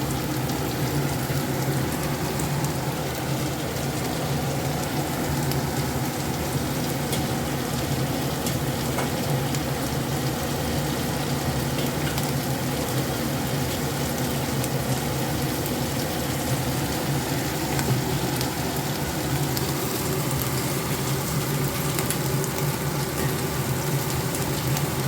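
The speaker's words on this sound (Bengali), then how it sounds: "পেঁয়াজের সাথে আমি একটু কুচি কাঁচা লঙ্কা দিচ্ছি" Sliced onion and chopped green chili sautéing in hot oil, a loud, dense, steady sizzle that continues without break for the full length, close up with no talking.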